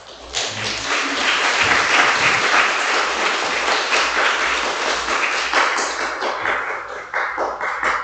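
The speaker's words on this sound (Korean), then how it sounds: "박수로 다시 하도록 하겠습니다" A church congregation claps steadily and warmly for several seconds during an afternoon worship service, the applause dense and even before thinning out near the end.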